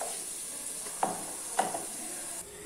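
Ground masala paste fries in a pan for a mutton kulambu, giving a steady hiss with two soft clicks or stirs, which fades slightly near the end.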